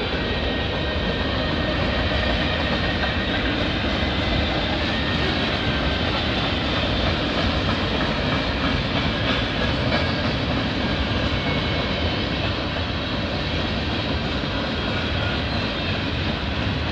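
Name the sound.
CN freight train passing with gondola cars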